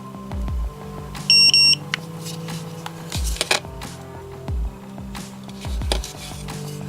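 A short burst of high electronic beeping from a Bluetooth smart key locator alarm rings out once amid clattering handling noises and soft thumps nearby.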